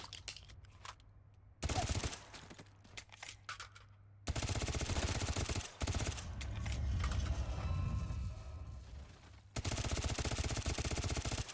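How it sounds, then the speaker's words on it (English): Rapid full-auto bursts from an MP7 submachine gun in a competitive shooter match, the loud dense crackle coming in long sustained stretches with brief gaps between them. "Yeah, really quite accurate with that full auto MP7"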